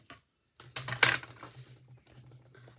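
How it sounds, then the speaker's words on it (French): Craft knife slicing a hole through a paper scrapbook album page, a short scratchy cut with a sharper crisp snag in the middle, close and fairly loud over a low hum. "mon cutter et je fais un trou pour passer mon ruban"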